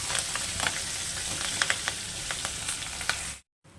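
Mustard seeds, cumin, asafoetida, curry leaves and chillies frying in hot oil give a loud, steady sizzling hiss with scattered sharp pops close by, cutting off abruptly into brief silence near the end, with no voices.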